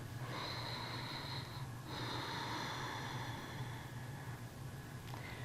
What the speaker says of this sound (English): This is just breathing in and out through your nostrils to where you can almost hear the oceanic sound in the back of your mind.